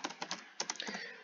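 Quick, light keystrokes on a computer keyboard tap in uneven bursts, close and fairly quiet, with no voices.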